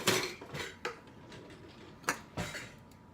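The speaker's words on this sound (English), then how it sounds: "I'm going to put my sour cream right in there with it" A spoon scrapes and clinks against a container while a cup of sour cream is scooped in for keto enchiladas, giving several sharp taps and clatters close by, with no voices.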